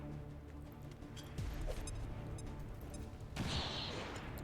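A grenade blast in XCOM 2 Long War 2, a sudden low rumbling burst partway through followed by a second heavier boom near the end, set against game background noise.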